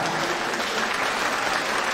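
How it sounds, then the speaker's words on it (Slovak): A seniors' audience in Poltár applauds to welcome a singer, a steady, dense wash of clapping from many hands that stays even throughout. "Krásny potlesk"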